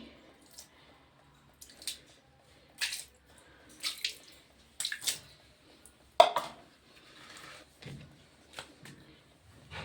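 Cleaning liquid splashed in small amounts onto dirty bathroom tiles, a series of soft wet squirts and drips spaced irregularly, fairly close and quiet, with no talking.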